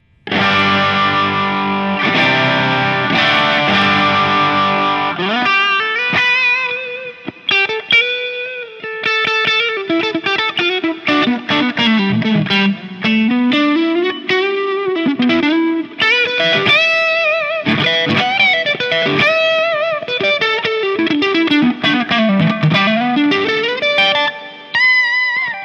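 A distorted electric guitar runs through a Line 6 Helix processor with reverb, playing chords followed by sustained, bending lead lines that ring out loud and close for the whole stretch, without any talk.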